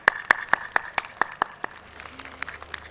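A few people clap in a slow, uneven rhythm of separate, distinct hand claps at a Pakistani Iqbal Day 2019 heritage event welcoming children, fading toward the end with faint background sounds.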